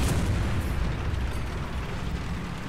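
A bomb explosion in the War Thunder tank game, a loud, sustained, rumbling blast with heavy low-end roar filling the whole moment, with no talk.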